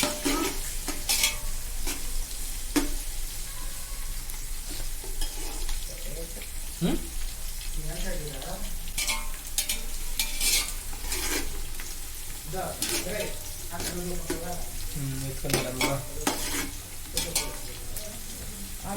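Onions frying in oil until golden for home-style chicken dum biryani, a continuous close sizzle broken by repeated scraping and stirring of a spatula in the pan, with occasional talk at moments.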